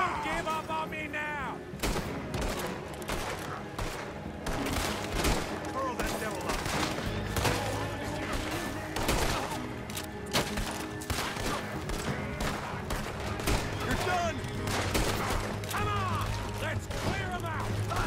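Rapid gunfire in Red Dead Redemption 2, dense overlapping shots and volleys crackling continuously with sharp repeated reports, over game sound and voices talking.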